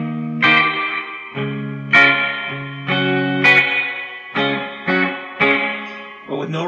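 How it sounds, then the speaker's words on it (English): Electric guitar chords strummed in bursts through a 1990s Peavey Ultra 60 amp, each ringing out with a heavy, washy reverb tail between strums. "I'm going to go play with that reverb a little bit. You can get a good amount of reverb."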